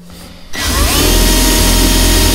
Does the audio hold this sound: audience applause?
no